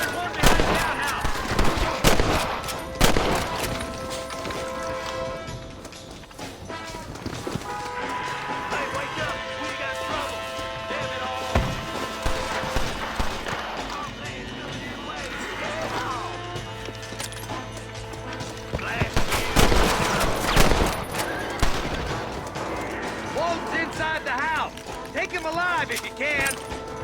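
Gunshots ring out in a Red Dead Redemption shootout: scattered sharp cracks and bursts among game sounds, music and voices, with heavier volleys near the end.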